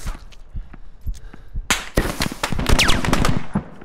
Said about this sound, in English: We're taking shots from east from somewhere.